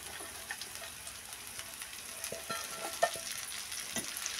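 Halved broad beans, cut and washed, tipped into a hot pan for a tomato curry, frying with a soft steady sizzle and scattered clinks of stirring close by, no talk.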